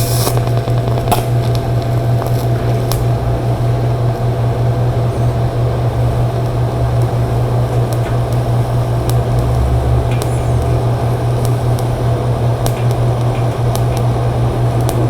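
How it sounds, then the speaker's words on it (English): Welding on clean, freshly prepared metal produces a loud, continuous buzzing hum with a fine, even crackle that holds steady throughout without breaks. "let me show you a couple of welds with everything all nice and clean"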